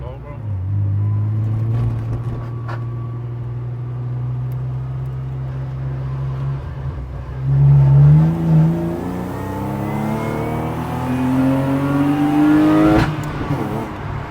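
A BMW E36 engine with a suspected fault idles with a steady drone, then revs up twice into a rising whine, close and loud, with no talk over it.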